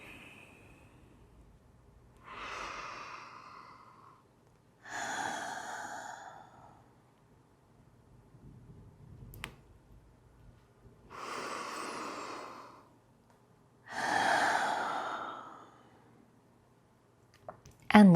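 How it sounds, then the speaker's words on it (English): Slow, deep breaths during a guided mobility exercise, about five long audible inhales and exhales spaced evenly, close and fairly soft in a quiet room. "A couple more full deep breaths."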